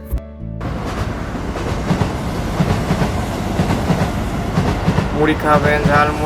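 A train rumbles loudly along the rails with a rhythmic clatter of wheels. A voice is briefly heard near the end.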